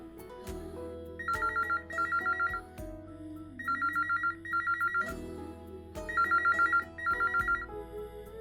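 Telephone ringtone during an outgoing call, a bright electronic double trill repeating in regular bursts about every two seconds over a low hum, fairly loud and close with no talking.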